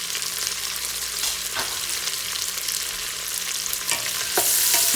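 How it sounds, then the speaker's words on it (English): Carrots, celery, onion and fennel being stirred in a stock pot for minestrone over medium heat, a steady soft sizzle with occasional scraping strokes of the spoon throughout, growing slightly louder at the end. "Give that a little stir."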